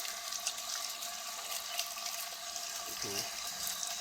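Water runs steadily from a tap while grafted plant cuttings are washed, a continuous close splashing hiss with someone speaking briefly over it.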